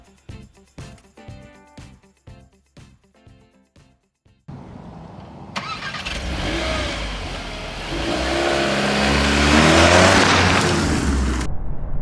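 A 2025 Volkswagen Golf R is driven on the road, with its engine note rising into a loud, sustained roar of acceleration. Before that comes a stretch of rhythmic thumping beats.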